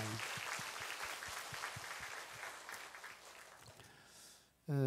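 Church congregation applauding in thanks on a dedication Sunday marking the sanctuary's second anniversary; fairly faint, steady clapping that thins out toward the end, followed by an abrupt louder noise.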